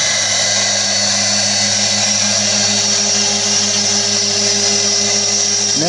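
A new CNC mill runs steadily in a close, loud, unbroken drone with a constant hum and high whine throughout, no voices.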